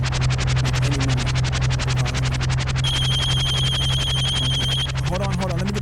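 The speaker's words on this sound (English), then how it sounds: "Let me get the phone." A phone rings with a steady electronic trill, a bright tone joining partway through, loud and continuous over a low background hum and some talk.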